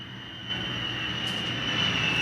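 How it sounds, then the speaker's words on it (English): Airplane flying overhead, a steady broad jet-engine roar with a high whine, gradually growing louder as it passes, heard alone without talk. "you can hear the aeroplane go overhead"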